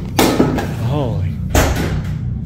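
Doors banging shut inside an office, two sharp thumping slams about a second apart with a faint voice murmuring between them.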